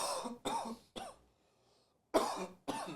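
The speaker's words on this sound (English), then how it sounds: "I'm going to cough." Several short, harsh coughs in quick bursts, close by, with a brief quiet pause between the groups.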